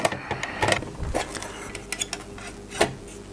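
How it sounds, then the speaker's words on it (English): Disassembly of a printer power supply, with irregular metallic clinks, taps and rattles of plastic and metal parts being handled, loud and close with no speech. "we're going to go ahead and take this apart"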